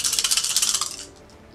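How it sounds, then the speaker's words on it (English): Four red dice for a Star Wars Armada tabletop game clatter and rattle across the table in a quick burst of rapid clicks that settles and fades within about a second. "Four red dice."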